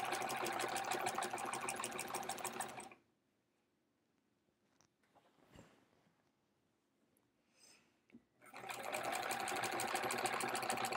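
A sewing machine quilting with a bobbin runs in a loud steady whir, stops for several seconds of near silence with faint handling clicks, then starts up again at full speed.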